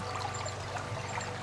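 A countryside creek runs steadily, a soft continuous trickling and burbling of shallow water heard fairly faintly and evenly throughout, with no voices.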